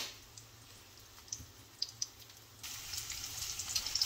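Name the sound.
Korean pancakes sizzling while frying in a pan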